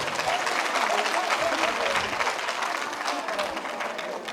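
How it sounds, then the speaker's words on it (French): An audience at a televised cocktail event applauds loudly and steadily for several seconds, a dense, even wash of many hands clapping close by. "je voudrais vous demander de les applaudir très fort."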